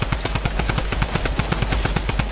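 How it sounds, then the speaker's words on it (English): Rapid sustained bursts of Tommy gun fire in an online squad battle video game, a fast, steady rattle of closely spaced shots running throughout at loud, near range. "Tommy gun spammer."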